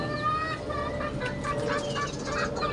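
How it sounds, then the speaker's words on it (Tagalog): A flock of backyard pet chickens clucks and calls in overlapping bursts, with busy, close, continuous squawks and murmurs throughout. "Ito po ang aking mga alagang mga chicken."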